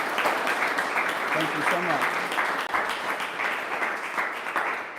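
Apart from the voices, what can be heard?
audience applause for the speaker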